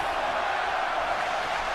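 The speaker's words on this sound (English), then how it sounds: "The crowd is chanting fight forever." Crowd noise from a WWE 2K18 video game wrestling match between Pete Dunne and AJ Styles, a steady, dense roar of chanting fans with no clear breaks, loud and sustained throughout.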